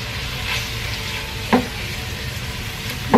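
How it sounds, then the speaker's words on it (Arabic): Onions with black pepper, turmeric and cinnamon frying in a pan, a dense close sizzle with a couple of sharp stirring scrapes, fairly loud and steady throughout. "نساو البصل يبدا يحمر بشويه بشويه."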